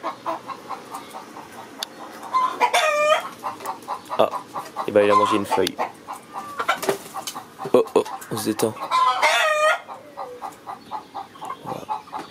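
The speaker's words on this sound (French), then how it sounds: "Donc 10 poules d'Alsace et 6 poules pondeuses." Alsace hens and laying hens clucking nearby on a small poultry farm, repeated rising and falling clucks and squawks scattered throughout, with a person speaking briefly between the calls.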